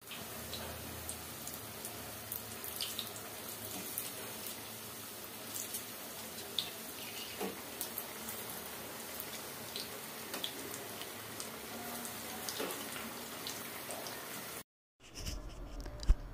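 Chilli bajji fritters frying in hot oil over a low flame, giving a steady, dense crackle and sizzle that runs continuously until a brief break near the end, with no talking.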